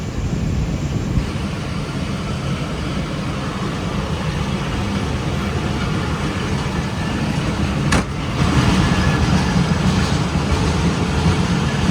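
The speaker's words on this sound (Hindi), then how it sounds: "ये भी कराची और सियालकोट के दरमियान चलने वाली एक रेगुलर पैसेंजर ट्रेन है" A regular passenger train running between Karachi and Sialkot rumbles along the track with a steady, loud, low roar, heard from close by, with a brief sharp clank partway through.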